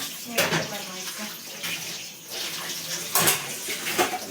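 Dishes being scrubbed and rinsed under a running tap at a home kitchen sink, with a steady wash of water broken by splashy bursts and soft clinks, and faint voices in the background.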